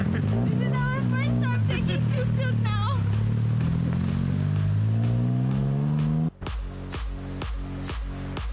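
A tuk-tuk engine drones during a ride in Thailand, a rhythmic, pulsing chug that takes over after a stretch of people talking and then carries on steadily on its own.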